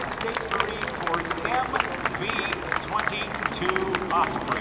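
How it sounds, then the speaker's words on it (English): A crowd at an air show claps steadily for a United States Marine Corps MV-22 Osprey while announcer speech and chatter carry over the applause. "I hope you'll give a big round of applause for your United States Marine Corps"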